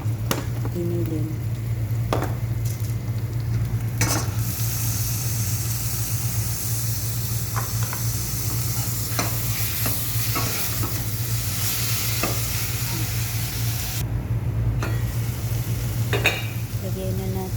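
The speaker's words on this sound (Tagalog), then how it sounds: "Pangkutsahin natin ang giniling." Ground meat sizzles steadily in a hot pan on a stovetop, with occasional stirring scrapes and utensil clatter over a constant low burner hum.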